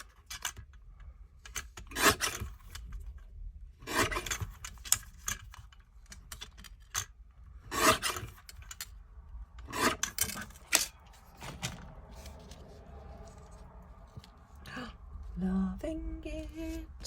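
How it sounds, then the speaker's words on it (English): Card being trimmed into a rectangle: short, quiet cutting and rubbing strokes come in irregular bursts with gaps between them, close and faint. "Just give it a little trim into our rectangle."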